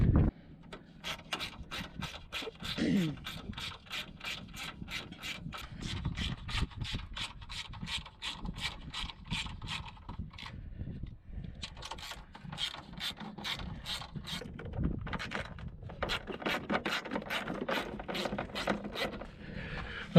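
Rapid ratcheting clicks as headlight assembly bolts are loosened on a Ford F250 truck, coming in several repeated bursts with brief pauses and faint rubbing between them, close up and fairly quiet.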